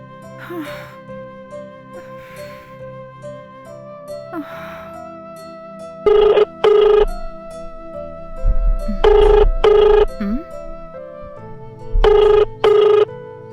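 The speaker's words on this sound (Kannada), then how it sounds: "ಈ ಮನುಷ್ಯ ಅವಸರಕ್ಕೆ ಫೋನ್ ಮಾಡಿದ್ರೆ ಎತ್ತೋದೇ ಇಲ್ವಲ್ಲ" A telephone rings unanswered in a domestic drama scene, sounding three loud pairs of ringing bursts separated by quiet pauses, with faint breathy sounds between the rings.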